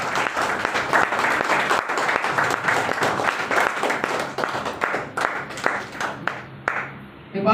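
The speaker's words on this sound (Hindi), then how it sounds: "आप सभी लोग शानदार जानदार तालियों से वेलकम करेंगे।" Dense audience applause at an indoor self-awareness program as a guest speaker is welcomed to the stage, steady loud clapping that thins out toward the end.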